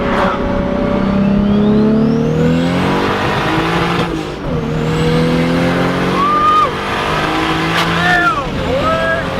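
A car launches hard with traction control on, its engine revving loud and close through rising gear pulls with brief dips between shifts, while people talk over the noise.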